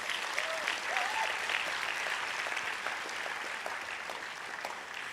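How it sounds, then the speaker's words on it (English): An audience at the Desmond Tutu International Peace Lecture breaks into steady, dense applause that carries evenly throughout, with scattered voices mixed into the clapping. "A big round of applause"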